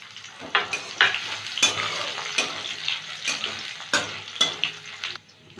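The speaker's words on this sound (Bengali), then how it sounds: "রসুনটা একটু ভেজে নিলাম" Chopped garlic and green chili fry in oil with nigella seeds for beetroot chachchari, a continuous close sizzle punctuated by repeated spatula scrapes and taps on the pan at a loose, steady pace.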